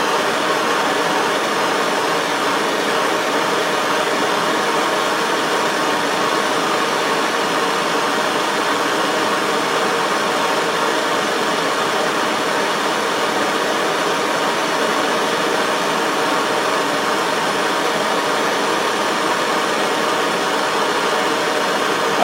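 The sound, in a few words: torch heating a piece of metal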